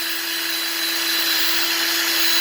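A drill spinning a polishing pad against aluminum gives a steady, loud whirring drone with a constant hum, close and uninterrupted, with no talking.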